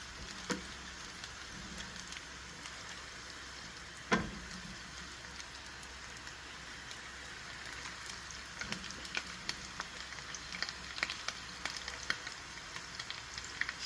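Steady soft sizzling of taco shells frying in a pan carries on throughout, with faint crackles and an occasional light clunk close by.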